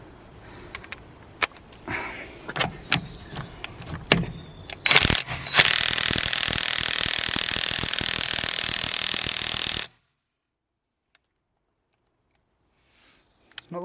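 A Parkside impact wrench works on untouched 17mm car lug nuts, first with a few scattered knocks and clicks, then a loud, steady hammering buzz for about four seconds that stops abruptly into near silence.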